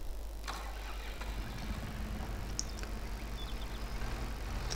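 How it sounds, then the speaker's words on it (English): A small tractor in Farming Simulator 22 runs with a low, steady mid-pitched engine drone at moderate volume, with a few light clicks and no talk. "get in the small tractor"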